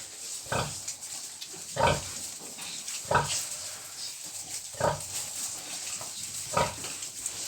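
Piglets grunting and snuffling close by as they eat, short bursts every second or so over a faint background hiss.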